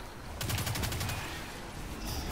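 Video game gunfire rattles out in a rapid burst of closely spaced shots lasting about a second, loud and near, followed by quieter game ambience with no talking.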